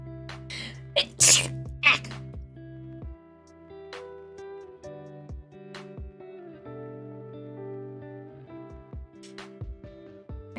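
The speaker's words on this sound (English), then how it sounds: "I'm gonna sneeze." A person sneezes twice in quick succession, sharp loud bursts near the start, followed by quiet background music.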